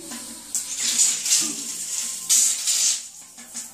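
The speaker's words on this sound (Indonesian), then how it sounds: "Air akan mengalir seperti ini." Water sprays and hisses from a hose sprayer attachment connected directly to a tap, in uneven surges, rising and falling in strength, with no one talking.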